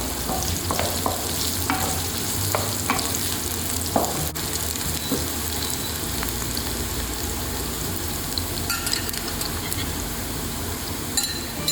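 Baby eggplant frying in oil in a pan for a Hyderabadi curry, a loud dense sizzle with crackling pops and scraping strokes of stirring, close and continuous with no talk.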